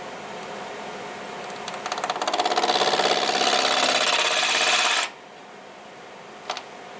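A bowl gouge cuts a wooden bowl spinning on a wood lathe, giving a loud steady rasp that builds and then stops abruptly, leaving the lathe's quieter hum under a single short click near the end.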